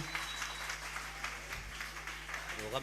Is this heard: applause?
yes